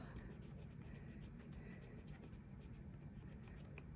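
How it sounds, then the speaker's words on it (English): A pencil drawing on paper is erased with steady, fast scratchy rubbing, a continuous soft friction texture with light repeated strokes throughout. "you'll want to erase the scalp"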